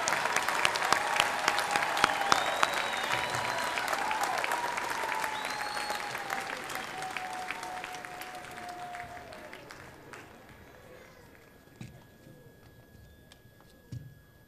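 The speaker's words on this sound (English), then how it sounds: "Join me in applauding the graduates of the School of Health Professions and Natural Sciences." Sustained applause for graduates at the 2018 County College of Morris commencement, a broad crowd clapping with whoops that gradually fades toward the end, leaving scattered claps.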